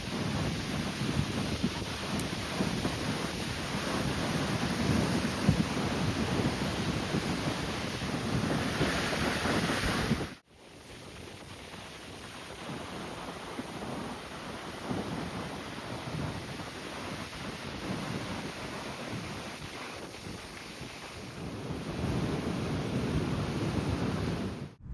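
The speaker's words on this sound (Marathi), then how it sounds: "या जवळून दाखवूया समुद्र" Sea waves wash onto a beach in a long, rolling roar mixed with heavy wind buffeting the microphone, broken by a sudden cut partway through before the surf continues.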